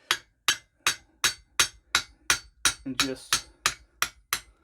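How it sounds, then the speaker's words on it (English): A small hammer taps repeatedly on a Yes4All dumbbell handle to loosen a stuck collar, striking about thirteen sharp metallic knocks at an even, quick pace. Someone speaks briefly partway through. "all I have to do is just grab a small hammer or something"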